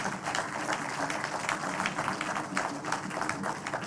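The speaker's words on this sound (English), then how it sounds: "I think they deserve a big round of applause" Steady applause from an audience at a logistics park launch ceremony in Nigeria, a dense continuous patter of many hands clapping at moderate distance with no voices over it.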